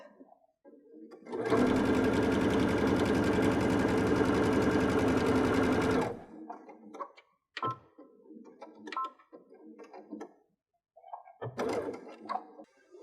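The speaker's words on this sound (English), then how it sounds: "now we've sewn all the way down our long tube" A sewing machine stitches a long seam down pillowcase fabric, its fast, steady mechanical whir running loud for about five seconds, then stopping, followed by quiet handling noises of fabric.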